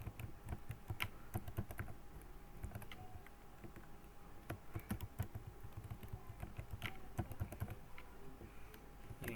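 A password being typed on a computer keyboard during an online scholarship application, with quick, irregular key clicks tapping steadily close to the microphone, no speech.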